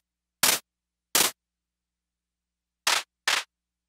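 Four synthesized claps distorted through a wave shaper, each a short harsh burst of noise, sounding in two spaced pairs against silence, sharp and dry with no voices.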